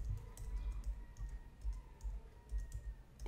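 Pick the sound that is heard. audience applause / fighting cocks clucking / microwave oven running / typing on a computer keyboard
typing on a computer keyboard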